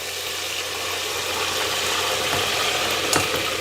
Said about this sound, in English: it's going to start to sizzle.